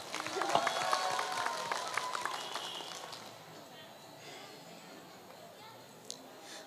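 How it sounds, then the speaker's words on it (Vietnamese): Audience applause at a pageant stage event, a burst of clapping and crowd noise for the first few seconds that then fades to a quieter room. "Quý vị có thể cho em một tràng pháo tay để em có thêm năng lượng không ạ?"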